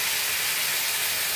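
Chopped tomatoes dropped onto fried spices sizzle steadily in a hot pan, giving a close, even hiss throughout.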